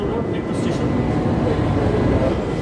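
A Kolkata Yellow Line metro train pulls into Jessore Road station with a loud, continuous low rumble that fills the clip, and voices are faintly mixed in.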